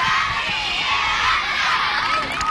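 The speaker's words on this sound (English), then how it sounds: "And the crowd urging Dartmouth United on" A crowd at a Dartmouth United soccer match cheers and shouts continuously, a dense, loud roar of many voices with children's higher yells mixed in.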